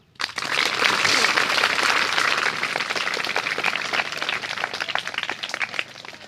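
Audience applause at a government elementary school event on smog awareness and tree planting, a dense burst of clapping that starts abruptly and holds steady for several seconds before thinning slightly, with faint voices mixed in.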